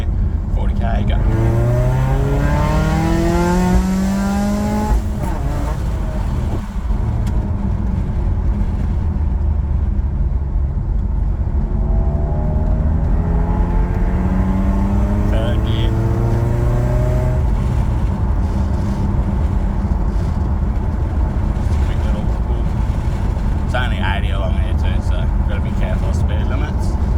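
Honda CR-V with a K24 engine, ported intake manifold and throttle body, accelerating hard in second gear: loud engine note climbing steadily in pitch, a brief drop at the shift, then rising again inside the cabin, with people talking over it.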